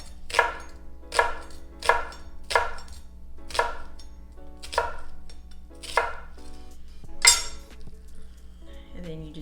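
A knife chopping peppers and onions on a cutting board, about eight crisp, evenly spaced cuts close by, each a sharp knock of the blade against the board.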